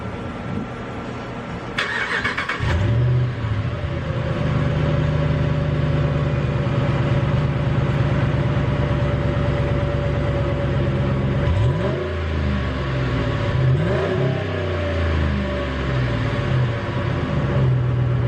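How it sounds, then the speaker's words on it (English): A warmed-up street truck engine on its current exhaust: a brief rev near the start, then a steady loud idle that drones on, with a few throttle blips and swells toward the end, close to the microphone. "I'm gonna get you guys a couple clips of the current exhaust"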